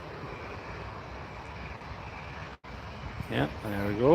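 A Cessna Citation business jet departing Newcastle International Airport, a steady broadband engine roar filling the background while a person talks over it nearby.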